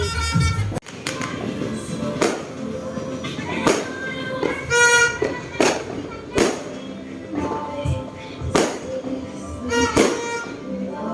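Repeated New Year's Eve firework bangs and crackles pop at irregular intervals, some close and loud, with family members talking in the background.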